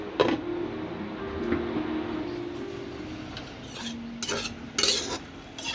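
Banana flower with turmeric and salt being stirred in a pot, with a few soft scrapes and metallic clinks over a low steady background hum, close but fairly quiet, without talk.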